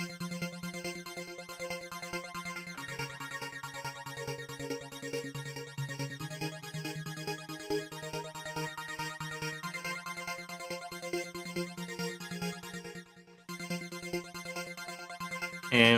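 A Sylenth synth arpeggiator loop with phase-motion flanger or phaser and side chaining plays steadily, a pulsing repeated pattern whose tone sweeps over time, briefly dropping out near the end.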